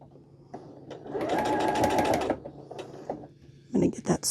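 A sewing machine runs in one steady, loud burst of stitching as quilt block pieces are joined, stopping abruptly after about a second, with some handling clatter and brief talk around it.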